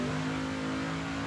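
A Chevelle drag car at Tucson Dragway holds a loud, steady engine drone in one brief burst, close by and alone.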